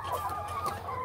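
A hen clucking close by in a brief burst of soft, throaty notes, with no talk over it.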